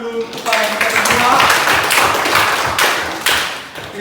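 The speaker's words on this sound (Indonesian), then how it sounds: "mari kita tepuk tangan dulu kepada kita semua" A school class clapping together, a burst of lively mixed applause rising quickly and holding for a few seconds at close range.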